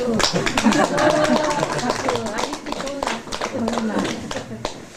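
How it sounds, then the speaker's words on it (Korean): Clapping from guests at a first-birthday party, a fairly steady patter of hands running through the whole stretch, close and loud, mixed with lively talk and cheering voices over it. "예, 박수!"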